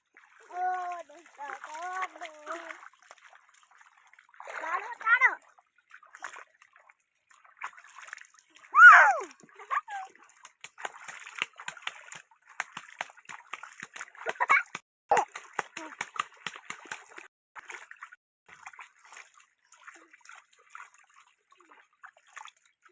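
Children bathing in water outdoors, with repeated splashes and sloshing bursts, some close and loud, spread across the scene while kids talk and shout between and over the splashing.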